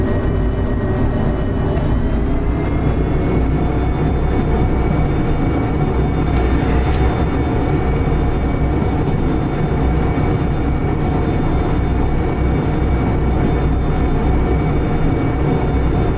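A DE6 diesel locomotive in the video game Derail Valley drones loudly and steadily, a continuous deep engine rumble with a constant mechanical whine and no breaks.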